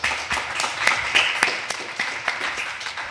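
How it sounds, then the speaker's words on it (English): An audience claps at a live startup pitch event with investor feedback, a thin patter of scattered claps over room noise, moderate in level and steady for a few seconds. "Round of applause."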